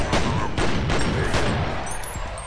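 Several rapid gunshots crack in quick succession in the video game F.E.A.R. Perseus Mandate, a short burst of sharp bangs close by with no talking.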